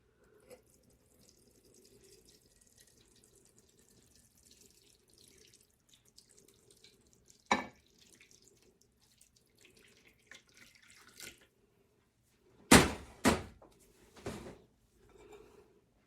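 Tap water runs softly into a pot being set up as a water bath for melting a soap base, a faint, steady trickle followed by a few sharp clatters of the pot and fixtures.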